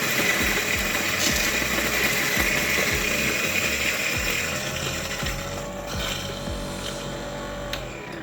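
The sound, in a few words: N600 coffee grinder grinding coffee beans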